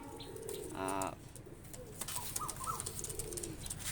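Pakistani high flyer pigeons at a breeding loft coo softly and flutter, with a short chirp and faint background voices, all fairly quiet.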